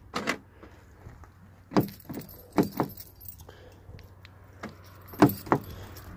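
Keys jangle and click in the door lock of a Peugeot 307, a few short metallic rattles and scrapes spaced apart, close and fairly quiet against a low background hum.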